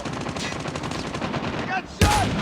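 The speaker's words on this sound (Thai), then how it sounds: "ยิงไม่ค่อยโดนเลยนะวันนี้" Automatic gunfire from a Call of Duty Mobile Gun Game team match, dense rapid shots running continuously with a sharper, louder burst near the end.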